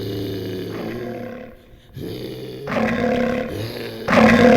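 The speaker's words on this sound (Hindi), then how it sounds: "उस सामने देखो शेर आ रहा है" A lion roars in a dramatized jungle scene, with loud, rough growling bursts that swell and fall over several seconds, the last roar the loudest, and no talk over it.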